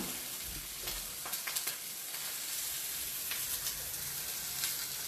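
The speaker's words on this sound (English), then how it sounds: "Touch of oil, and in they go." Precooked potatoes sizzle and crackle in hot oil, a steady close frying hiss with occasional sharper pops and stirring scrapes.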